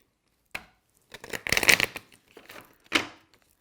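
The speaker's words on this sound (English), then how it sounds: "Shuffle like this." A tarot deck shuffled by hand: a few short, crisp bursts of cards riffling and slapping together, close and fairly quiet, separated by silent pauses.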